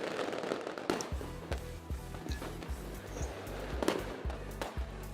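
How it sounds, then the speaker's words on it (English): Fireworks sound effect played over a live stream: a steady run of crackling bursts and thumping low pops repeating at an uneven rhythm, fairly loud and continuous throughout with no speech. "Have some fireworks just for you."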